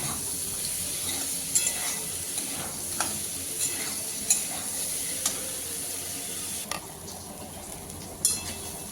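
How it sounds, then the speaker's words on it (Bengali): Cabbage with chickpeas and green chili being sautéed in a pan, a steady soft sizzle with scattered scraping clicks of a spatula stirring at close range. "সবজিগুলো কিন্তু খুব ভালোভাবে কষাতে হবে"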